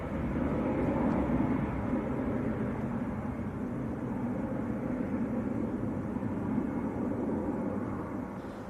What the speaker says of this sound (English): Just a regular A320.